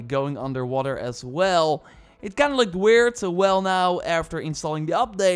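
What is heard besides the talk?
No everyday noise stands out behind the speech.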